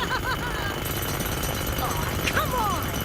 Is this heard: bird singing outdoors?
no